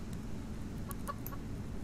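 A chicken in the survival game Subsistence gives a few short, soft clucks over a constant low ambient rumble, close by but fairly quiet.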